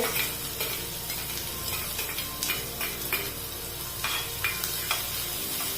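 Chopped capsicum stirred and sautéed in a pan for hara bhara kebab, a steady sizzle with repeated scraping spatula strokes against the pan, close and alone with no voices.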